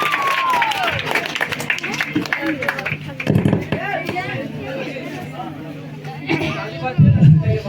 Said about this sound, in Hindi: जोरदार ताली, जोरदार ताली हो जाए